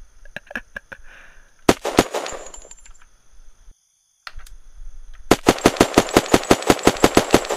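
Gunfire from a gun in the video game Unturned: a few scattered shots, then a dense run of loud, evenly spaced automatic bursts, close and alone.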